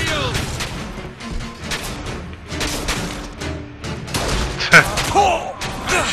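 Gunfire and heavy thuds burst repeatedly in BioShock Infinite combat, with irregular shots and impacts layered over game noise while someone talks over the action.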